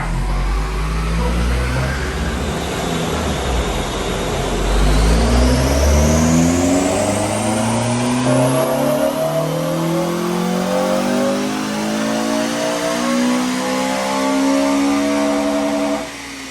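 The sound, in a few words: modified Honda car engine revving on a dyno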